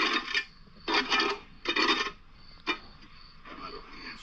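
A John Deere excavator bucket scrapes across soil while digging down toward a buried septic tank, giving several rough rasping strokes in a loose rhythm, each about half a second long, close and moderately loud with pauses between.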